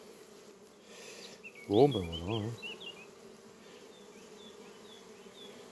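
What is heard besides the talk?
honey bees buzzing around an opened hive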